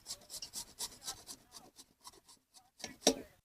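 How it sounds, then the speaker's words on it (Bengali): Mango being sliced with a hand cutting machine instead of a blunt knife, giving a run of dry rasping, scraping strokes close by, ending in one louder cut. "ছুরি দিয়ে কাটা হচ্ছে না, আমরা মেশিন দিয়ে কাটতেছি"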